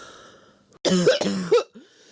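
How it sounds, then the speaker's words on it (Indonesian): Two or three forceful, harsh coughs in quick succession, loud and close, with quiet breathing before and after, as a sputum sample is coughed up for a tuberculosis test. "Ulangi 3 kali, kemudian batukan dengan kuat."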